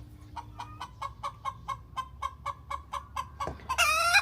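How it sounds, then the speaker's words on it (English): A chicken clucks outdoors in the morning in a quick, regular run of about fifteen short, evenly spaced calls. A sharp thump and a louder, shrill squawk follow at the end, with no talking. "The chicken's been very vocal out here this morning."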